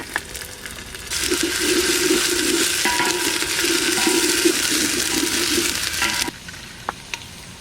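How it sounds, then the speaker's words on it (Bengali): Bay leaf, ginger and garlic sauté in a cooking pot, a strong sizzle rising abruptly and holding steady with stirring scrapes before cutting off, followed by a few faint clinks. "তেজপাতা, আদা রসুনটা আগে ভালো করে কষাই নেব"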